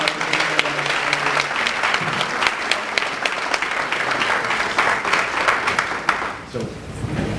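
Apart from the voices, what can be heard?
audience applause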